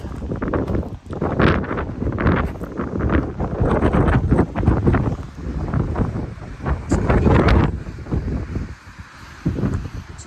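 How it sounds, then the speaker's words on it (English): Strong gusty wind buffets the microphone at the edge of a big gulch on Maui, a loud rumbling roar that swells and eases in waves with no talking. "the sun's out a little bit and it's not nearly as windy, so it's still windy though"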